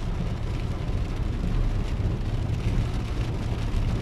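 Rain falls at night in Jeddah as a car drives through it, a steady wash of road and rain noise with a low rumble that stays constant, with no voices heard.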